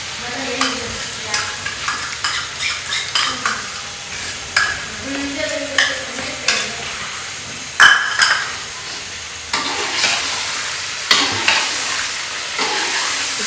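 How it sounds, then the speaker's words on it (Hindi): Yogurt stirred into a hot kadai of chicken biryani, with loud, close sizzling and frying crackle broken by repeated stirring scrapes and clatter of the spoon against the pan. "दही हम लोग डाल देंगे कढ़ाई के अंदर।"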